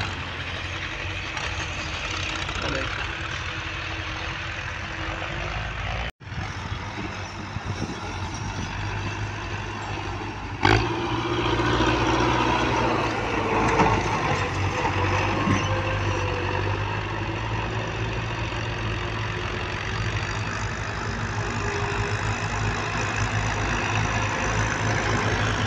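A Belarus 510 tractor engine chugs with a heavy, low diesel drone outdoors, briefly cut off near the start, then returning louder and steady for the rest of the stretch.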